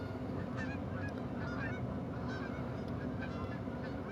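A flock of geese in a Yukon Valley hunting game honks in quick overlapping bursts over a constant outdoor rumble, moderately loud and close, with no voices.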